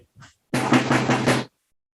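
A short burst of drum rolling on a Civil War-style rope tension drum for about a second, dense rapid strokes, preceded by a couple of faint taps.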